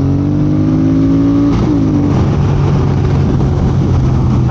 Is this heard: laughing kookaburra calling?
no